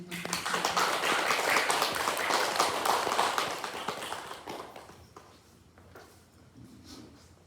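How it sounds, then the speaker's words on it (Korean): An audience applauds to welcome a speaker at a Korean educational gathering, with dense clapping that holds steady for several seconds and then thins out and fades. "큰 박수로 맞이해 주시면 감사하겠습니다"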